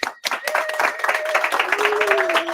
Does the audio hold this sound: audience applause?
yes